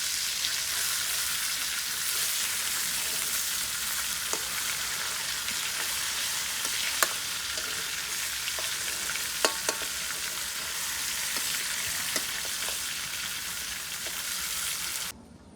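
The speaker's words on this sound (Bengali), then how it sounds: "মাছটা বেশি কড়া করে ভাজবো না, হালকা হালকায় ভাজিয়ে করবো" Pieces of a large 20 kg brigate fish frying gently in a pan, a continuous hissing sizzle with scattered pops and utensil clicks, close and steady, cutting off at the end.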